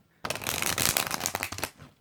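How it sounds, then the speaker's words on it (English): A thick-cardstock tarot deck being shuffled up close, a dense riffling flutter of cards lasting under two seconds before stopping, with no talk. "let's just give it a nice shuffle"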